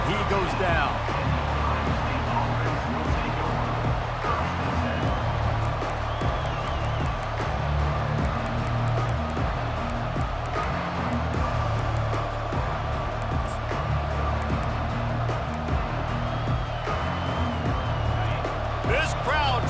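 A packed home stadium crowd at a Washington vs Ohio State college football game roars in a continuous, dense wall of noise, with a commentator talking over it throughout.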